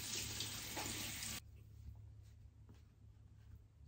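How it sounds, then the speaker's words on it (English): Cold tap water runs loudly and steadily for about a second and a half while a face is rinsed, then cuts off abruptly, leaving faint splashes and drips in a quiet room. "I rinse it with cold water."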